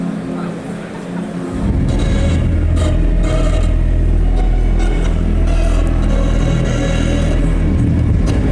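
A drift Lamborghini Gallardo rolls in with a low, heavy rumble that rises after a quiet opening, joined by scraping and crowd noise around it.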